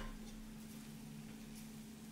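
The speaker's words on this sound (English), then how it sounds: "I'm just kind of like dry frying it a little bit just to get rid of some of the moisture from the onion" Chopped onion dry-frying in a pan without oil, ahead of fish with tom yam sauce and eggplant sambal: a steady low sizzle with faint stirring scrapes, quiet and continuous with a low hum underneath.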